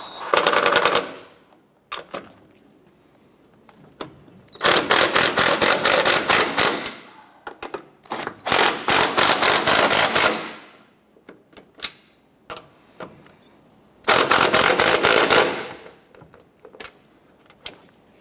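Upper strut mount nuts on a 2006-2013 Chevrolet Impala are run down with an impact-type tool: several loud rapid rattling bursts, each a second or two long, separated by quiet gaps and small clicks.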